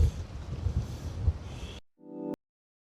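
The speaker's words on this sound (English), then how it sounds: "Oh, it's windy." Gusty wind buffets the microphone outdoors in a garden during planting, a loud, rough rumble lasting under two seconds before it cuts off abruptly, with no talking over it.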